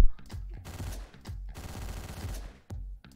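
Rapid bursts of gunfire in Hotline Miami, loud and close, several volleys separated by brief gaps.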